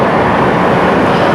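A New York subway train nearing the Ditmars stop rumbles and roars in a loud, steady wash of rail noise, heard from on board with no voices.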